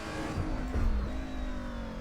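A 1990s DTM race car in Assetto Corsa drops down through the gears, engine blipping and braking down with a brief louder rev burst near the middle, then a steady lower drone, close and without talking.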